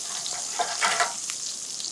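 Duck breast sizzling and frying in a tilted pan while hot oil is spooned over it, a close, crackling hiss with small pops and spatters, no voices.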